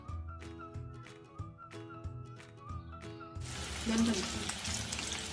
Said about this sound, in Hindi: ये ज़बरदस्त सी करारी करारी सी आवाज़ आ रही है।